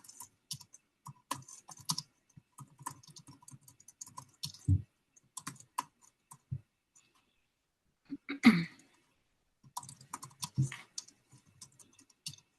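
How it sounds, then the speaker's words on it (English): Someone types on a computer keyboard in short, uneven bursts of clicks at close range, with quiet gaps between them and a few louder thumps. "Let me just type it in here."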